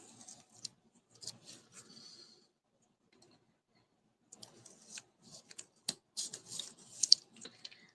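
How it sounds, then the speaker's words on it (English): Paper being peeled up with the tip of a piercing tool during a craft project, heard as small close scratchy ticks and crinkles in scattered bursts, quiet at first, then a near-silent gap, then a busier stretch. "I love how easily it peels with the tip of your piercing tool"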